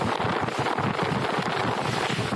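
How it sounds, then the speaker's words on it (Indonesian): Strong wind sweeps through small-business market tents at a festival in Mamuju, a continuous roaring gust buffeting the microphone with no voices heard. "Angin kencang tiba-tiba menyapu sejumlah tenda UMKM milik warga hingga membuat panik"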